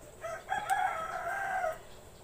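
A rooster crows once in a long, drawn-out call, moderately near and clear, set against faint background hiss in a rural home setting at feeding time.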